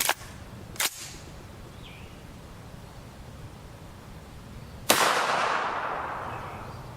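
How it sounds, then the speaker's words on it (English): Gunshots from a rifle firing subsonic ammunition at an armor target, three sharp cracks spread over several seconds, with the last one followed by a long echoing decay outdoors. "After we're done shooting these, we'll go check the target for bullet stability at approximately 15 yards."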